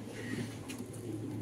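Foreign-breed pigeons cooing softly in a cage, a low murmuring coo with faint background noise.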